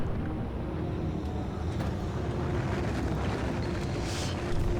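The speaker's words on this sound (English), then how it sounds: "And here we go, the first rocket launch." A rocket launch in Factorio, a steady low rumbling roar that holds evenly throughout with no voices over it.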